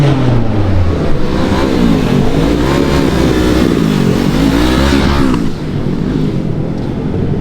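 Loud, close engine roar at a street car meet and takeover at a Buc-ee's, rising and falling as a car revs hard with a wavering pitch, then dropping slightly near the end.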